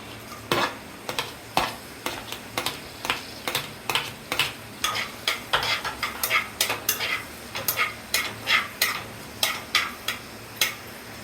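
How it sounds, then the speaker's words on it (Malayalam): Ginger, garlic, chilli, curry leaves and onion sauté in a pan for a Kerala-style curry, with a steady soft sizzle under repeated sharp scrapes and clinks of a spoon stirring against the metal. "കടുക് പൊട്ടിക്കഴിയുമ്പോൾ ഇഞ്ചി, വെളുത്തുള്ളി, മുളക്, കരിവേപ്പില, സവാള ഇട്ട് വഴന്ന് കഴിയുമ്പം"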